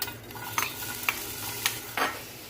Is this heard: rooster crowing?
no